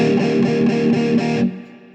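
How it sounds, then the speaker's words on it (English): Heavily distorted electric guitar strummed in steady downstrokes with a hint of palm muting, dense and loud for about a second and a half before the chord is choked off into a quiet ringing tail. "you want to get as much distortion as you can"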